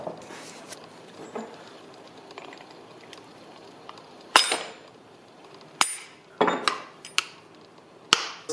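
Metal poppers on the air filter cover of a Dolmar PS510 chainsaw, several sharp close snaps and clicks in uneven succession after a quieter stretch of faint handling.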